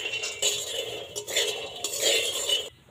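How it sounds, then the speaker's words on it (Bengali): Peanuts roasting in a metal pan for barfi clatter and crack as they are stirred, a loud close rattle in several bursts with brief pauses, ending abruptly. "দেখুন কত সুন্দরভাবে কিন্তু চীনা বাদামটা ফাটছে"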